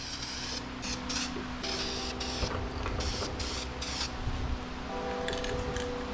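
Aerosol spray paint hisses in short bursts onto an alternator bracket for a 318 Charger street car, the broadband spray coming and going several times up close with no talking.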